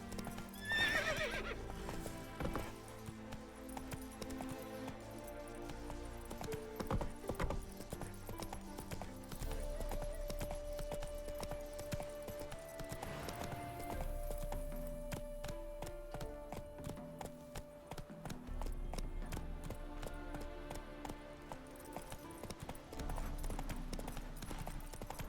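In Witcher 3, Geralt's horse Roach gallops with rapid, rhythmic hoofbeats over a background music score, and a neigh rings out near the start.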